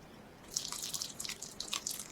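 A little water is poured into a thick batter of breading and egg for a rice snack, giving a faint, brief trickle and splash up close in a quiet kitchen.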